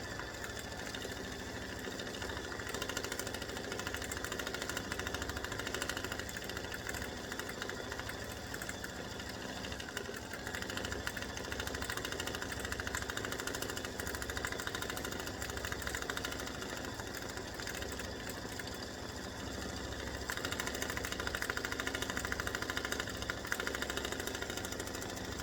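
An embroidery machine stitches a Mother's Day greeting card design of two flowers and leaves, running in a steady, fast, continuous mechanical whir with rapid needle chatter throughout.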